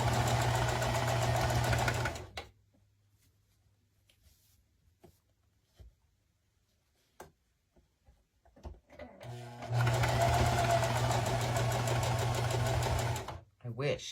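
A sewing machine stitches a felt snowman hat, whirring loud and close for two seconds, then after a quiet pause with faint handling clicks it runs again for several seconds before stopping.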